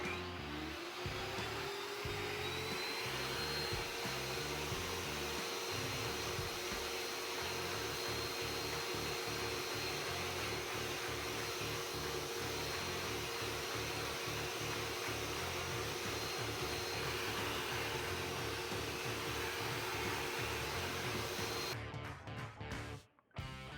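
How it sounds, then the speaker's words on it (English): Dustless drywall sander running with a wet vac attached, sanding a wall, producing a loud, continuous droning whine for about twenty seconds with no talking, ending in a few sharp clicks. "So we're going to give this little tool a try here,"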